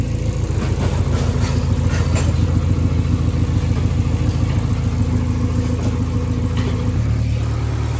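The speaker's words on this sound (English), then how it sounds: "the car's been running for about 5 or so minutes now" A Honda Civic hatchback's swapped B16 engine idles continuously with a steady low rumble and rhythmic clatter, close and even in loudness throughout, no voices.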